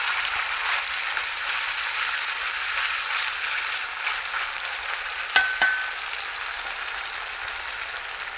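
Fish sizzling and frying in hot oil in a pan along with rice, a steady broadband crackle throughout with a couple of brief sharper pops near the end, no voices.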